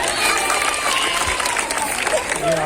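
An audience at a live comedy show claps, a steady wash of applause and crowd noise filling the short moment.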